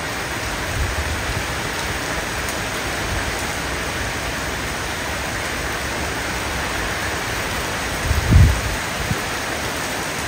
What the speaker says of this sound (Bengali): প্রচণ্ড জোরে বৃষ্টি পড়ছে।